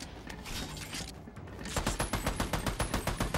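A rapid run of clicking mechanical rattles from a gun being reloaded in the shooter Army of Two, steady, close and fairly loud over a busy background of game noise.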